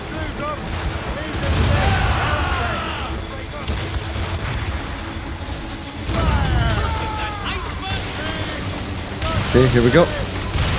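Ship cannons boom and explosions burst during a naval battle with schooners among icebergs in Assassin's Creed Rogue, a sustained roar of gunfire in two heavy waves, with someone briefly talking over it.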